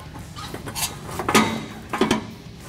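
Borla stainless steel X-pipe for an F-150 Raptor mid-section exhaust being slid into place against a down pipe flange, giving a few close metallic clinks and scrapes spaced across a short moment.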